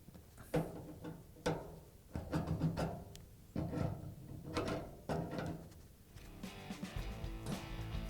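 Close metallic ratcheting and clicking of adjustable pliers tightening a gas line fitting on a Whirlpool dryer, in uneven bursts with small knocks and scrapes.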